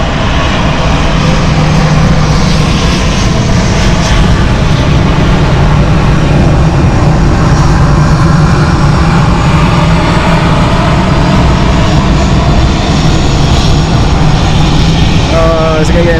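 A Condor airliner on a Seattle flight comes in to land at Frankfurt in a crosswind, its engines a loud, steady roar that fills the whole stretch without a break.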